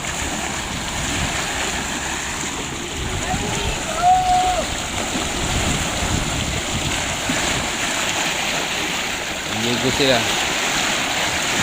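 River water released from Magat Dam rushes and splashes in a broad, steady wash, loud and close, while people chat nearby over the flow.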